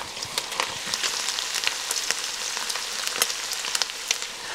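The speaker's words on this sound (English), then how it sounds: "that sizzling sound where that fat is now starting to cook that beef." Ground beef frying in a pan, fat sizzling with soft, steady hissing and scattered sharp crackles and pops, fairly quiet and close, no voices.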